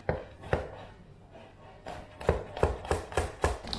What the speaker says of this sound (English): Let's cut the garlic first.